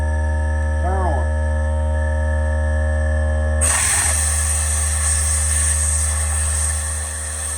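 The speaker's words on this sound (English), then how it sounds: "The air compressor's on. I'm going to blow this out. Get down there around the plug." Air compressor hose blasts a steady rush of air around a spark plug on an M8 Harley Davidson motorcycle, the hiss starting abruptly partway through over an ongoing engine-like hum, close and loud.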